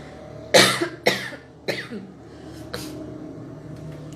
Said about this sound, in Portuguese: Só um minuto, gente, que a tosse tá